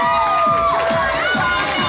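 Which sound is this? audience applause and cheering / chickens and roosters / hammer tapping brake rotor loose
audience applause and cheering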